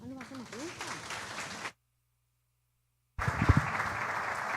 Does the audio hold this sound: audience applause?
yes